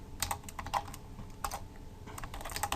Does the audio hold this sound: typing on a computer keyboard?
yes